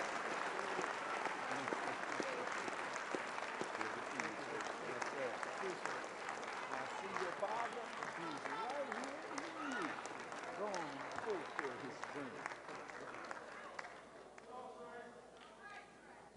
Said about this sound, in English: give him a round of applause as he come to the microphone